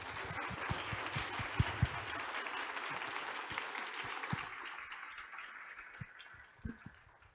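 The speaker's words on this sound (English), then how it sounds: "Let's give our panel a round of applause." Sustained applause from a lunchtime history talk audience greets the panel, dense and steady at moderate distance before thinning and fading toward the end.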